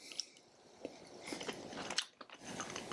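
Someone close by bites and chews crunchy freeze-dried chicken meal chunks, making quiet, irregular crunches and mouth sounds with no talking.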